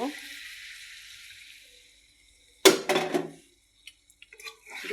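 Water splashes into a pan of frying crabs with a sudden loud hiss and bubbling that fades into scattered drips and faint clinks, after a quieter stretch of low sizzling.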